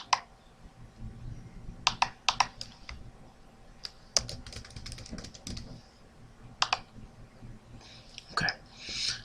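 Username and password being entered on a computer keyboard: scattered quiet clusters of close key clicks with pauses between bursts, and faint whispery breathing underneath.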